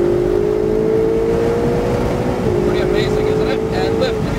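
A Ferrari 488 GTB accelerates hard on a race track, its engine note climbing steadily with a brief break midway, loud and close under wind noise.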